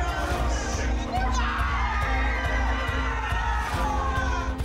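A close audience screams and shrieks in shock as a street magician spits out a live frog, loud excited yelling from several voices overlapping throughout.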